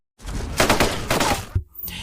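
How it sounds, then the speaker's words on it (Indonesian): Gunfire in an action film battle scene, several rapid bursts of loud shots and crackling reports in quick succession, then an abrupt cut to near silence. "mendengar suara tembakan"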